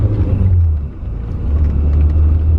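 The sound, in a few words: BMW E30 M3 Sport Evolution driving on a narrow road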